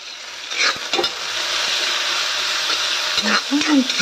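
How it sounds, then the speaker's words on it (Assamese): Onions frying in a hot kadai, a steady close sizzle with occasional stirring scrapes, continuous for the whole stretch. "এইফালে কেৰাহী গৰম হৈ গ'ল মই পিঁয়াজখিনি ধুনীয়াকৈ ভাজি ল'ম"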